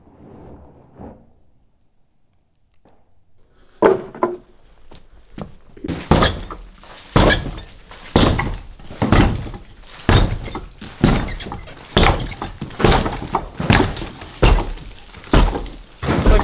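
Heavy rhythmic thuds and crashes, evenly spaced about every second, boom out loudly after a quiet opening, suggesting debris falling as a 200-year-old ceiling collapses, with a low rumbling floor resonance.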